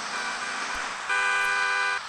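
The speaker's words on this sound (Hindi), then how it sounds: "इसका हॉर्न भी अच्छा है" Car horn in GTA Vice City blares a steady, loud multi-tone honk, starting faint and then sounding strongly for about a second before cutting off, with no voices.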